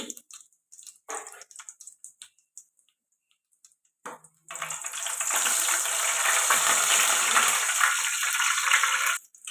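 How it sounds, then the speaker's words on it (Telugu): A dried red chili and cumin seeds fry in hot oil in a pan, giving a steady, close sizzle that starts partway through after a few scattered clicks and light handling noises. No one talks. "ఇప్పుడు కొద్దిగా ఫ్రై అవ్వాలి"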